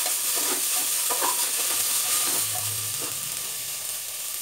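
Beans, carrot and potato fry in a pan over a medium gas flame for Awadhi tehri, producing a constant close sizzle with soft stirring sounds.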